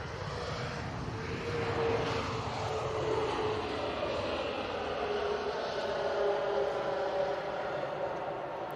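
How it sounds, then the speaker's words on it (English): A Ryanair Boeing 737 Max 8 airliner, just landed at Manchester Airport, gives a steady, broad engine roar with a faint shifting whine, constant and moderately distant throughout. "Got a Ryanair that's landed. Yep. It's a Max 8."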